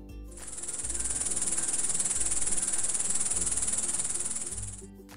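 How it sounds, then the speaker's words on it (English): A house cricket chirps in a continuous, rapid high-pitched trill that holds steady for several seconds, then cuts off. "House cricket."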